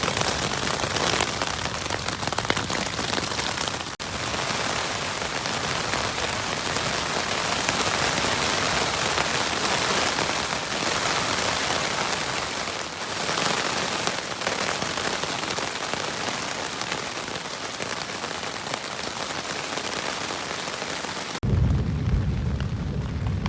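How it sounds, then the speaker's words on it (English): Heavy rain drums steadily on a small backpacking tent at a lakeside campground during a storm, a dense, loud, unbroken hiss close overhead that drops off abruptly near the end. "It is still raining, just not as hard as it once was."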